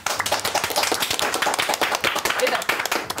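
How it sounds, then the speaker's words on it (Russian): Audience clapping on a televised quiz show for exam students, a quick busy burst of hand claps close by with voices mixed in underneath. "И аплодисменты."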